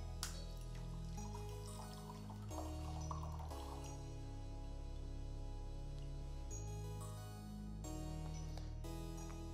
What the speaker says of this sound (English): let's dump the water out of here